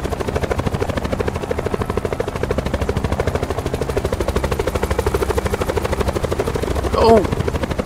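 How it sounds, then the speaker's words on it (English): A helicopter in the battle royale game Call of Duty Blackout thuds with fast, steady rotor beats that stay loud and close throughout, joined by a brief burst near the end. "You think we could hit that chopper?"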